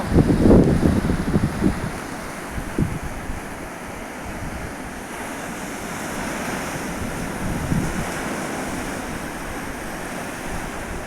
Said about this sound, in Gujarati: દરિયાની લહેરો પણ બહુ જોરદાર દ્રશ્ય જોવા મળે છે